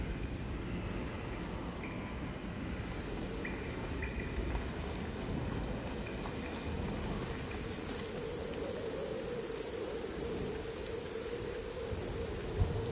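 Steady rain pours in the Lords of the Fallen game world, a broad, even wash of falling water with faint low rumbles of thunder beneath, continuous and unbroken with no voices.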